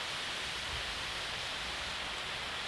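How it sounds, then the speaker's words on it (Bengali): Steady rain pours down during a school exam morning, a dense, even hiss that stays constant throughout without pauses or voices. "বৃষ্টি ছাড়ার কোনো নামই নাই"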